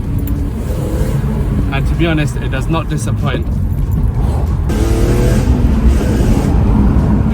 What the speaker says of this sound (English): That's what everyone in the E46 M3 club love, just to hear that rasp